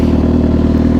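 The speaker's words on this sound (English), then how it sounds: "If you guys are curious what kind of bike I'm on, this is a Gsxr 750 2012." A 2012 Suzuki GSX-R 750 sport bike cruising over hills, its engine giving a loud, steady, close droning hum for a single second with no speech.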